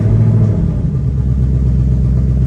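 A 2024 Ford Mustang S650 RTR Spec 2 with the performance pack idles indoors at a dealership just after starting, a loud, deep, steady V8-style rumble close by.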